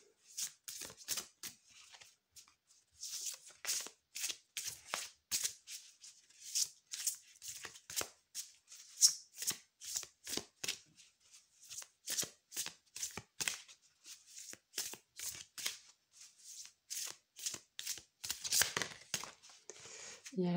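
A deck of oracle cards being shuffled by hand, close and crisp, in repeated quick riffling bursts with short pauses between them for about twenty seconds.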